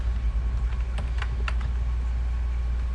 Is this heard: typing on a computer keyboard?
yes